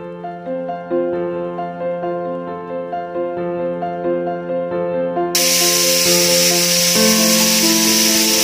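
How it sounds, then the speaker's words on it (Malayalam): A pressure cooker holding beef for a Kerala-style kappa beef curry lets out a loud, steady rush of hissing steam that starts abruptly and continues to the end, over soft tonal background music. "ഇപ്പൊ കുക്കർ ഞാൻ തുറക്കാൻ പോവാണ്"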